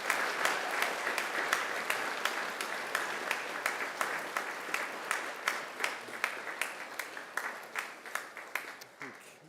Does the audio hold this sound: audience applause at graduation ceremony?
yes